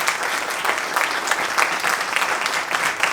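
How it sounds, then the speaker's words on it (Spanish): Audience at a conference on leadership lessons from Judaism applauding after a talk, a dense, steady patter of many hands clapping for about three seconds with no voices over it. "Pues muchas gracias al Rabino Tobal, un aplauso."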